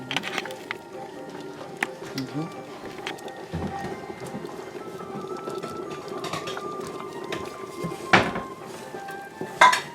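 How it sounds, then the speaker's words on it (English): Spoon scraping and clinking in a pot of bean stew, intermittent close knocks and rubs with a louder clatter near the end, under quiet kitchen background. "I need to stir it basically all the time."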